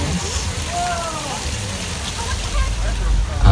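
A staged flash flood effect on the Universal Studios Hollywood tour builds as a rushing, rain-like wash of water with a low rumble swelling toward the end, while people talk over it.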